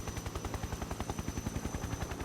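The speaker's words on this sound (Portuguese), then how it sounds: "Helicóptero russo." Russian helicopter in Metal Gear Solid 3, a rapid rhythmic rotor thump with a steady high whine, even and continuous at moderate distance with no talk.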